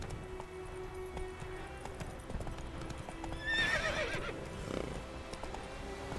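Roach the horse in The Witcher 3, with steady clip-clop hoofbeats throughout and a clear neigh partway through, close and moderately loud over faint background ambience.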